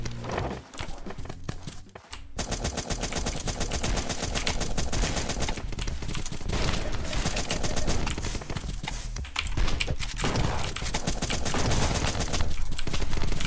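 Sustained rapid automatic fire from an M4 rifle in the ZombsRoyale video game, dense continuous bursts running almost the whole stretch with only a brief pause near the start, loud and up front with no talking.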